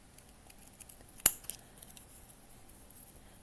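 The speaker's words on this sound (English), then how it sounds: "I'm going to cut these out." Scissors cutting out small paper flower pictures: one sharp close snip stands out, with a few softer clicks and faint paper rustles around it in a quiet room.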